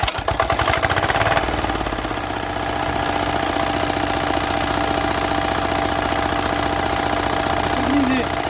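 An old Chinese Zubr NT135E walk-behind tractor engine runs nearby, smoking and chugging with a steady, rough, rhythmic putter that continues unbroken from start to finish.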